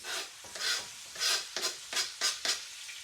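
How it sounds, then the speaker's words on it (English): Herbs sizzling in hot oil in a pot while being stirred, with repeated scraping strokes in a steady rhythm, close and clear. "You want to hear that sizzle, because that oil is still hot."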